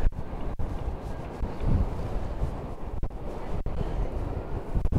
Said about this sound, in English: That's way too windy.